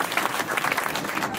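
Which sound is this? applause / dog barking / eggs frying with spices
applause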